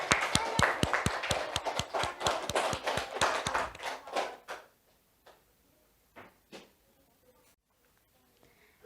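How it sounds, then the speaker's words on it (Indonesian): A primary school class claps in a quick rhythmic burst that fades out, followed by a few scattered, isolated claps. "Tepuk tangan untuk Tasya."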